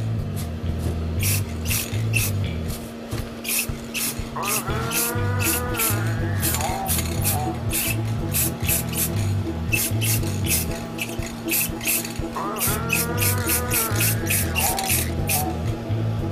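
A spray paint can coats DIY e-drum kit parts in short, repeated hissing bursts, close and crisp, over a constant low electrical hum, with no voices.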